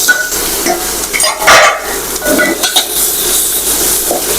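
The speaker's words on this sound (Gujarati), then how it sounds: "આ ભીંડાને છે ને આપણે તેલમાં સાતળવાના છે" Okra stir-fried in oil with curry leaves and asafoetida crackles loudly as a spoon scrapes and clanks against the pan, a burst of heavier stirring midway over constant sizzling.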